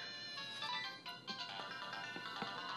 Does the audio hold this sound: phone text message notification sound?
yes